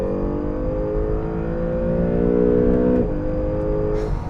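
A 2020 Acura NSX supercar on a launch holds its engine at a loud, steady high rev against the rev limiter, then the pitch drops and resumes briefly as it pulls away.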